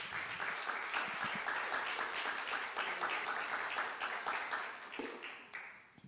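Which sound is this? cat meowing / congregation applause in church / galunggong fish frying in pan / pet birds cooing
congregation applause in church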